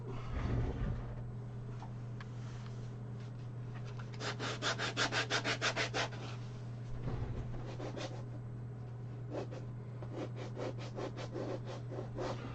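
Hand sanding with 120 grit sandpaper, in bursts of rapid rhythmic back-and-forth strokes, fairly close and moderately loud, separated by quieter pauses over a low steady hum.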